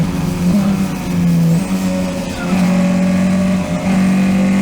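A Formula 4 race car on the final lap at Dijon-Prenois, its engine held at a high, steady whine with brief dips as gears shift, loud and close, with a rival car faintly audible nearby.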